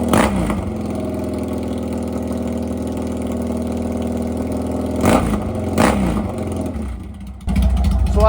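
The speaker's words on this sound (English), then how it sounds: "So I opened the choke to let more air in for it to idle, and I have to warm up a little bit. This is idle." A project motorcycle engine idles steadily with the choke open while warming up, a loud, close, even rumble with a couple of brief blips and a small bump in level near the end.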